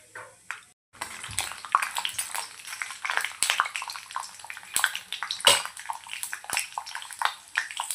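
Peanuts drop into hot oil and sizzle with sharp, irregular crackles and pops, starting after a brief quiet moment and continuing close and fairly loud.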